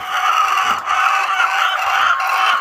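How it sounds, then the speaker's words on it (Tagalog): Many laying hens in a poultry house at about 22 weeks old cluck loudly and continuously, a dense, noisy chorus of overlapping calls with no pause. "So medyo maingay sila mga farmers kasi nangingitlog sila."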